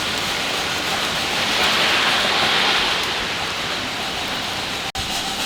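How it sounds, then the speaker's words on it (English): Steady rain pours down outdoors in a dense, even hiss of falling drops. It continues throughout without talk, and a brief dropout comes near the end. "The rain just started coming down, guys."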